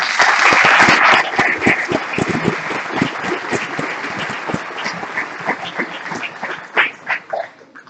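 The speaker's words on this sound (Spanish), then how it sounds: "un aplauso por favor" An audience applauds at a conference on environmental heritage, a dense, loud burst of clapping that thins toward the end into scattered, separate claps.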